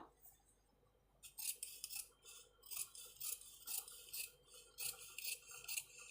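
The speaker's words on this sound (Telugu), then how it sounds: "ఇప్పుడు హ్యాండ్స్ని అయితే కట్ చేసుకుందాం" Scissors snip through blouse sleeve fabric during tailoring, a quiet opening followed by repeated close, rasping cuts in an uneven rhythm.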